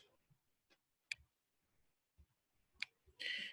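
Sparse, sharp mouse clicks on a computer's save button, two crisp taps spaced apart in a quiet room, followed by a short burst of louder hissing noise at the end.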